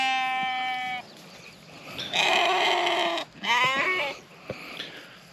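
Sheep and lambs on pasture give several loud, close, wavering bleats one after another in quick succession, with brief pauses between calls.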